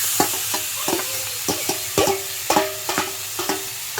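Stir-frying taro leaves with prawns, onion and chilli in a pan: a soft sizzle under a run of sharp, rhythmic clinks and scrapes of the spatula against the pan, close by, with no one talking.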